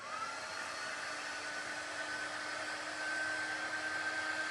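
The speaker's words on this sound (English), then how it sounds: "I'm going to dry that because I sprayed it." A hair dryer blows steadily over a sprayed 3D botanical paper craft project, a constant close whooshing motor hum with a faint whine, slightly louder in the final seconds, with no one speaking.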